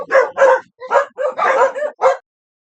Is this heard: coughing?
no